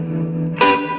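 A sustained electric guitar chord hums through tremolo, then a bright struck chord rings out with a splashy, springy spring-reverb tail.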